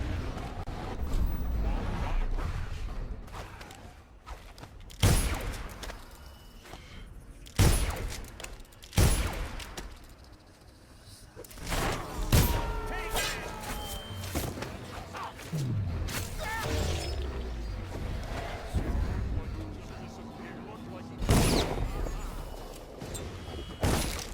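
Gunfire from guards in the stealth game Dishonored, with several sharp, loud shots spread across the scene amid scuffling and ambient game noise, and some voices in the background.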